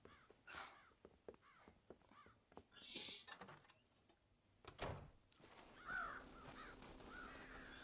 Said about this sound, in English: Scare the crows out of the silo.